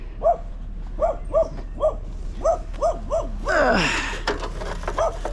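A dog barks repeatedly at an uneven pace, with short, fairly loud woofs close by and a brief whiny, yelping stretch partway through.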